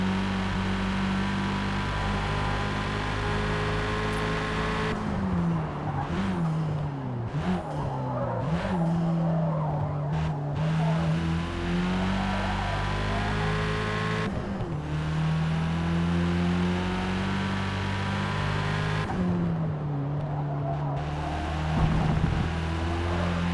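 An upgraded race car in Forza Motorsport roars steadily around the track, its engine note climbing and dropping through repeated gear changes, loud and close, with brief lifts and revs and a faint squeal near the end.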